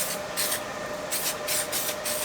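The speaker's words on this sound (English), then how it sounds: "I'm just going to spray some of this on there." HD Weld Kleen anti-spatter spray hisses out in four or five short bursts onto welding fixtures, close and fairly loud, with a faint steady hum underneath.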